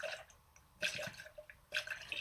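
Water trickles and drips into a radiator in a workshop, a soft, steady wet patter with two louder splashy surges, quiet and close, with no voices.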